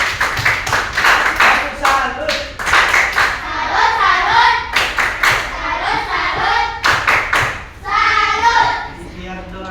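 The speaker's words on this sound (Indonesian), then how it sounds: "Ya, tepuk tangan untuk kelompok 4." A classroom applauds a student group after its presentation in a coding and artificial intelligence training session: scattered, uneven hand clapping with thumps runs through the whole stretch, mixed with voices and children talking.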